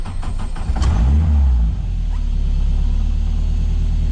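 A Mazda RX-7 with a K-series engine swap cranks briefly and fires into a loud, deep rumble that settles into a steady, close idle.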